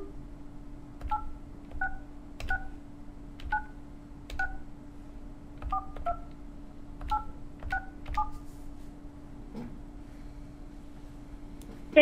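Touch-tone dialing to reach HostGator phone support, a series of crisp, evenly spaced DTMF beeps over a faint steady hum, heard alone with no voices.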